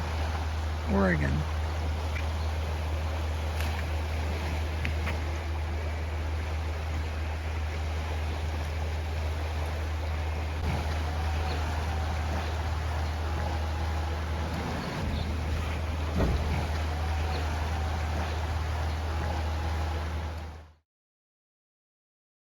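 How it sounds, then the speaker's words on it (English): Steady rushing of the Rogue River in Oregon flowing past a campsite, a constant broad wash of water with a low hum underneath, ending abruptly. "the soothing sounds of the passing river"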